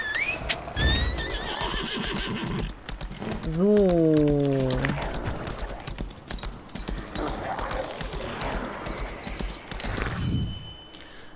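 A horse whinnies, then hooves clip-clop amid game effects in the video game Lost Ark, with a voice speaking briefly near the start.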